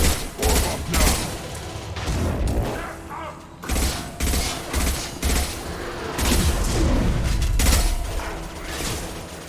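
Squad gunfire in Mass Effect 2 erupts in loud, dense bursts of shots and impacts across a combat encounter, with brief lulls between volleys and no voices.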